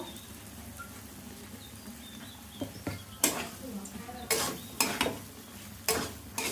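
Chickpeas sizzle in a pan while a utensil scrapes and stirs in repeated bursts, the strokes growing louder and more frequent toward the end.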